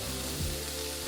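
Bacon sizzles and fries steadily in a pan, a dense continuous crackle filling the kitchen with no voices over it.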